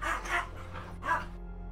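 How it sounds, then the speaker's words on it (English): Dogs barking in a town in the RedM video game, three short barks, two close together and one after a pause, moderately faint over a steady low hum. "There were some dogs in town barking."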